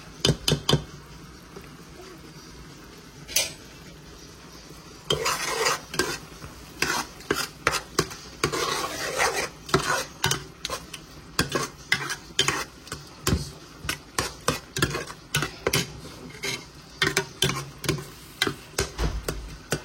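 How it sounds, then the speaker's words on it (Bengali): Spices such as coriander, chili, cumin and turmeric powder are stirred and sautéed in a pan for chicken bhuna, giving a run of rhythmic scraping strokes over a faint sizzle, close by and alone without talk. "দুই মিনিট মশলা কষি যাও"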